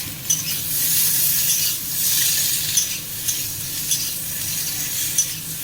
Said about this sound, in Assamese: সেইখিনিও এতিয়া অকণমান সময় ভাজিম